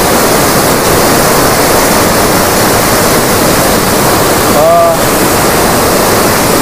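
Water pours out through gate 60 of the Srisailam dam in a loud, continuous, roaring rush that stays steady throughout, with only a brief faint tone rising over it near the end.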